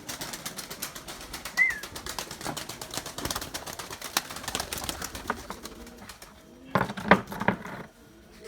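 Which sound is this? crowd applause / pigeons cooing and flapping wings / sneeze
pigeons cooing and flapping wings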